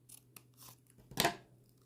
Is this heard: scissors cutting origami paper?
yes